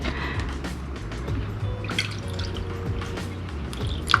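Purified water pours into a glass for iced coffee, a steady trickle broken by soft drips and splashes, close by and fairly quiet.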